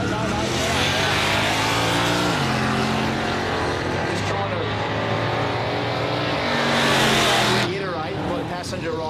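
A coupe drives at a Quick Street street racing event, its engine note loud and sustained with shifting harmonic pitch, mixed with other crowd and track noise throughout.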